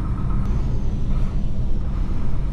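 An IVECO truck engine rumbles loudly from inside the cab during rev matching, a dense, steady low drone with no talk over it.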